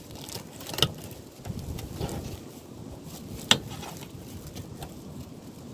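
Strong wind on a beach roars and buffets the microphone, with a couple of sharp gusts thumping through the rushing noise.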